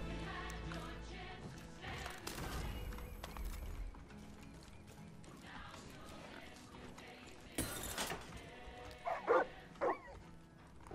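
Dog barking in the video game Far Cry 5, a few short barks near the end over busy game sounds including hooves and ambient noise.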